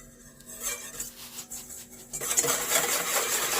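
Eggs and sugar are whisked in a bowl for a molten chocolate cake, giving quick scraping and clinking strokes that grow busier and louder toward the end.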